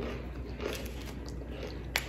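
Biting into a crisp fried buñuelo fritter at close range, with soft crunching and chewing that ends in a sharp crack, against faint background hiss and no speech.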